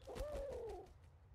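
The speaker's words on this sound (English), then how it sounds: "I have no idea what to do with this bird." A bird in a hidden-object adventure game gives a single soft, drawn-out coo that rises and falls over about a second, alone and fairly quiet.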